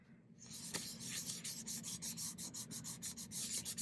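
Pastels rubbed on sandpaper while making a shrink plastic peony pendant: close, quiet, rhythmic scratchy strokes in quick succession, with no talk.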